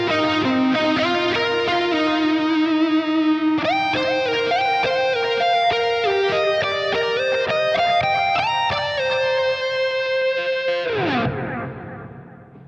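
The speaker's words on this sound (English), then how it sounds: "For the longer reverb here, I actually want to turn up the modulation control and get something pretty crazy sounding." Electric guitar through a UAFX Heavenly Plate reverb set to a long decay and high modulation, playing a flowing sequence of notes that blur into a shimmering, wavering wash before a final chord fades away.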